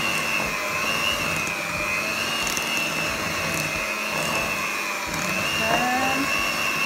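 An electric mixer beats flour and butter together for nastar cookie dough, a steady whining motor hum with a sustained tone, moderately loud and continuous.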